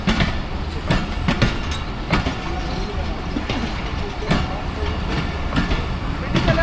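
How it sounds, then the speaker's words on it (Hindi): Awam Express train pulling out of Dina railway station in Pakistan, a steady rumble with rhythmic clickety-clack of wheels over rail joints and sharp intermittent clanks, heard close up under a continuous broad roar. "ये जी 47 आपका डिपार्चर हो गया दीना रेलवे स्टेशन से"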